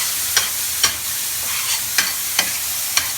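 Minced beef frying in a pan as pastelle filling for Trinidad and Tobago pastelles, a steady close sizzle broken by about five sharp, evenly spaced scrapes or taps of a spoon stirring the meat, with no talking.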